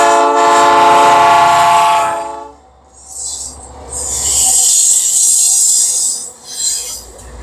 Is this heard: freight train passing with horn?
yes